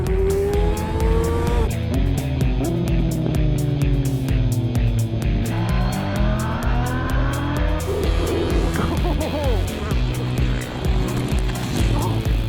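A KTM 690 single-cylinder motorcycle at full power gives a loud, close engine roar that rises and falls through gear changes, with wind rush under it the whole time.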